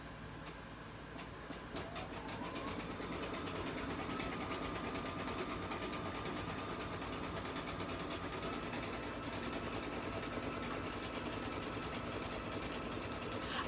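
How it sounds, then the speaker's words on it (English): An embroidery machine stitches continuously with a steady, fast mechanical whir and rhythmic needle chatter, holding at an even level throughout. "And it's stitching."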